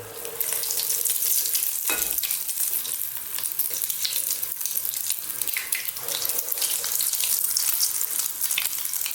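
Egg-washed fish pieces frying until golden brown make a loud, dense, hissing crackle of hot oil, steady and close, with one brief dull knock early on.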